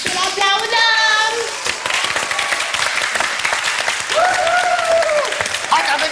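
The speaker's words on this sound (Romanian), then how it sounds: "Haideți să încurajăm artistul. Țineți cont că e la debut și are nevoie de susținere. Să-l aplaudăm!" A studio audience applauds a debuting performer, bright clapping that rises and falls over several seconds while voices shout and talk over it, with some whistling or cheering tones mixed in.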